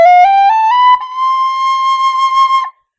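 A Killarney tin whistle plays a low scale, clear, bright single notes stepping upward one after another, loud and close with no other sound.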